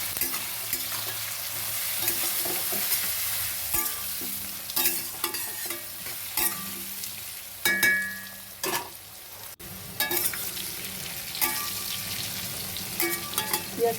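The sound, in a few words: onions frying with turmeric and salt, being stirred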